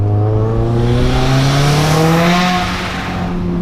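A Subaru Impreza WRX STI of about 500 horsepower with a modified exhaust accelerates hard through a tunnel, its loud engine note climbing steadily in pitch, echoing and roaring close up before easing slightly at the end.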